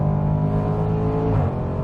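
A 2018 Range Rover Sport SVR facelift engine runs loud and close, a steady deep rumble with a slight rise in pitch toward the end.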